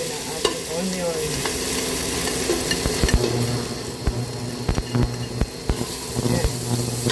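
Onion and garlic sizzle in oil in a frying pan, a steady close crackling hiss broken by scattered clicks and scrapes of stirring, with a voice speaking over it.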